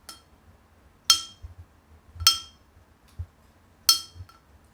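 A glass object picked up at a thrift store rings with three bright, sharp clinks spaced about a second apart, each leaving a short shimmering tail over faint low background thumps.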